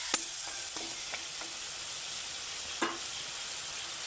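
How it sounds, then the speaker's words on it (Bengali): Masala spices frying in a pan for a Bengali cauliflower-stem curry, a steady soft sizzle with a few sharp stirring scrapes near the start and one more later, no talk. "মশলাটা একটু আমি ভালো মতন ভেজে নেব"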